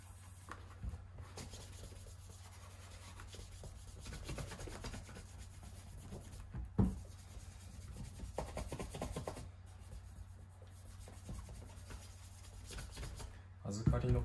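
A cloth wipes excess cream off a polished shoe in soft, continuous rubbing strokes, close and quiet, with faint talk in the background.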